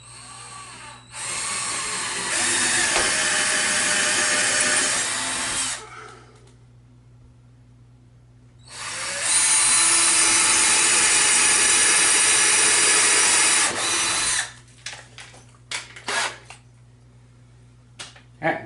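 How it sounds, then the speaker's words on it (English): A power drill bores two pilot holes into a wall for mounting screws, each a steady loud whine lasting several seconds, separated by a low hum, followed by scattered clicks and handling noises. "And you drill what's called a pilot hole."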